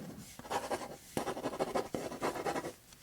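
A route being sketched on cardboard in a quiet, close-up setting: soft scratchy strokes come in uneven bursts, one after another, with brief pauses between them.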